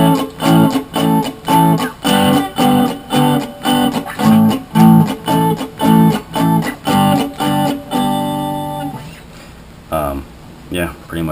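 Distorted electric guitar chops out a steady, evenly spaced offbeat ska rhythm of short muted chords, ending with a few held, ringing strums.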